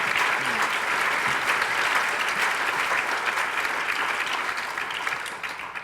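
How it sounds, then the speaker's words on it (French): Film festival audience at La Rochelle applauding warmly, dense steady clapping from a large crowd that holds for several seconds before tapering off slightly at the end. "on peut l'applaudir."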